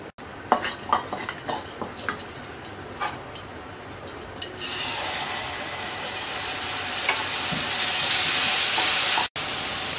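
Spice paste mixed with water poured into hot oil: light clinks and stirring taps first, then a sudden loud sizzle that swells and holds steady, briefly cutting out near the end.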